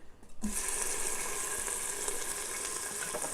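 Chopped onion hits hot olive oil in an Instant Pot on sauté, and a loud sizzle bursts in after a brief quiet, then crackles steadily and close up.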